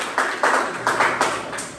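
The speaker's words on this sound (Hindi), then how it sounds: "बेटा ताली बजाओ उनके लिए" Students in a Class 10 science classroom clap together in a short burst of several loud, close, rhythmic claps.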